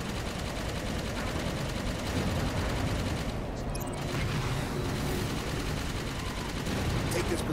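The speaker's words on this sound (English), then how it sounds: "Keep firing on those coolant pipes" Sustained rapid gunfire aimed at coolant pipes in Halo 5, a dense continuous rattle of automatic weapons with booming shots mixed in, loud and unbroken throughout with faint voices beneath.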